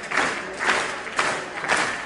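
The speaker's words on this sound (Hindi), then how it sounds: "सब कवियों की इच्छा श्रोता ताली खूब बजाए" An audience at a Hindi poetry recitation claps in quick, rhythmic bursts, about four swells of applause close together with crowd noise between them.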